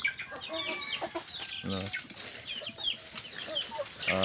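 Shamo and native chickens cluck and chatter at feeding time, a busy mix of short calls and squawks from several birds nearby, with a faint voice in the background.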